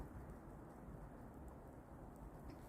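Light rain falls steadily, a soft continuous hiss of drops with a low rumble underneath, even and unbroken throughout with no talking.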